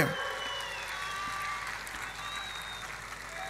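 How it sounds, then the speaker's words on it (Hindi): Rally crowd applauding for a candidate, a dense, continuous wash of clapping that starts abruptly and stays steady and fairly loud, with some shouting mixed in. "राहुल के लिए ताली बजाओ जोर से"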